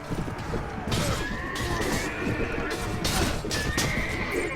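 A wounded horse in the Warband mod A Clash of Kings neighs in drawn-out whinnies amid the clip-clop of hooves and the crash and thwack of battle, all fairly close and continuous.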